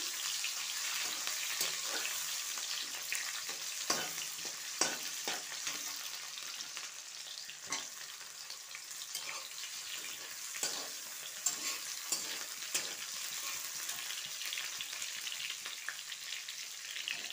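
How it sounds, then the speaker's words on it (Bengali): Chopped onion and cardamom frying in a pan for a mutton curry with jackfruit seeds, giving a steady broadband sizzle with occasional soft stirring clicks throughout, moderately quiet and with no talking. "এই যে এলাচ দিয়ে এখন আমি একটু এই যে পেঁয়াজ দিয়ে দিলাম, পেঁয়াজ কুচি"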